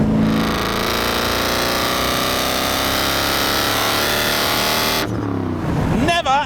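A 1975 Alfa Romeo Montreal driving at about 60 mph, its engine a loud sustained drone with steady road roar from inside the car, cutting off sharply near the end to quieter rustling.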